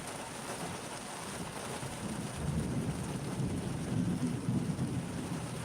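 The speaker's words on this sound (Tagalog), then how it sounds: "Grabe ang lakas ng ulan mga kababayan." Steady heavy rain pours down in Manila with a low rolling rumble of thunder swelling underneath, no voices.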